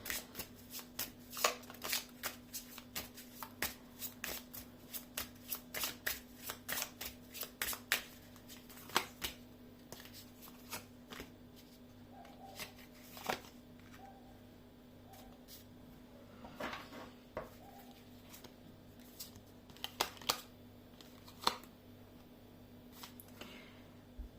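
Repeated crisp riffles and slaps of tarot cards being shuffled and laid down, irregular bursts close by over a steady low hum, no voices.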